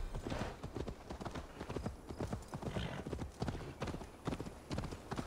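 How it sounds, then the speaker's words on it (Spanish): A horse gallops in the Viking-era game Assassin's Creed Valhalla, rapid rhythmic hoofbeats pounding steadily and close throughout, with a brief faint whinny. "Venga, caballito, corre."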